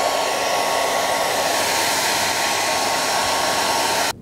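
A hair dryer blows steadily and loudly over an animal skin being prepared for taxidermy, a constant close whooshing roar that cuts off abruptly at the end, with no talk over it.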